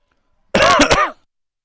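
A single close, loud throat-clearing cough, a brief harsh burst with a couple of pulses, then silence.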